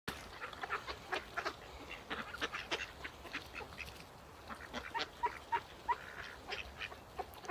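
Several ducks down by a river quack in short irregular bursts, fairly faint and a little distant, with a few honking calls mixed in.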